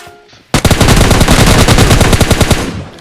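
Loud, rapid bursts of automatic gunfire in the video game PUBG Mobile Lite rattle continuously after a brief quiet start, close and relentless.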